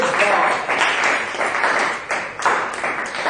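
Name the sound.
church congregation applause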